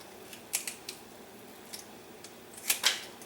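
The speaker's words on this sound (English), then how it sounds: "I don't like these wing tips, so I just cut them off." Scissors or shears snip through raw chicken wing tips in a few quick, crisp cuts, spaced and close against a quiet kitchen background.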